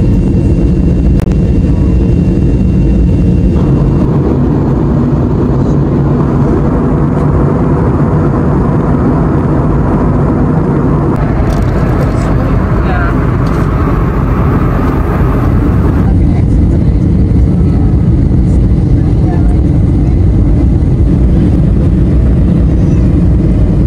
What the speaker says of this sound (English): we have finally landed here at the Singapore airport